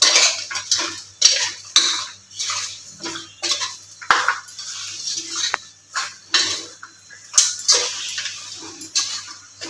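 Village-style country chicken with chilli powder, coriander powder and salt being tossed in a pot, heard as rhythmic scraping and clanking of a metal spoon against the vessel in repeated close strokes.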